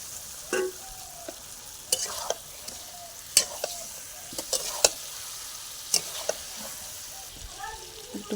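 Chicken pieces fry in a spiced masala, a close, continuous sizzle broken by repeated scraping clacks of a spatula stirring the pan at an irregular rhythm.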